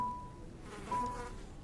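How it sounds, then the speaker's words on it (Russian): Flies in the video game Happy's Humble Burger Farm, heard as a faint, wavering buzz close by over quiet game ambience, with no talk. "А чё, почему мухи?"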